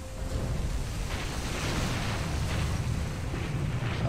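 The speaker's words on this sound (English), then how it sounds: "they're launching mass torpedoes" A mass torpedo launch in a WW2 naval battle game, John Tiller Naval Campaigns, comes through as a continuous, loud, low rumbling roar that holds steady throughout with no distinct separate blasts.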